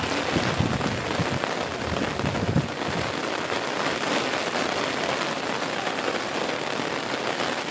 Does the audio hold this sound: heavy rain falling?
yes